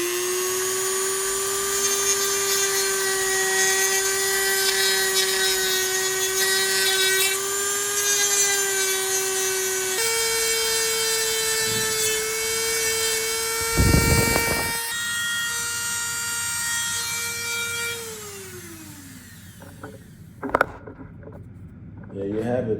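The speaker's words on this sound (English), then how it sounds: "We'll first get through the drilling portion" A drill bores holes through Senton 4x4 RC body panels in a high, whining note that starts and stops across several passes, with short pauses and a sharp clatter near the end.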